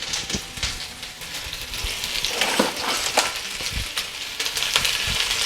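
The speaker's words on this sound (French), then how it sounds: "on attrape les oignons, on les met dans l'huile chaude." Onions sizzling and crackling in hot oil while being stirred for a veal stew, a continuous close frying hiss with scattered pops and scraping stirs.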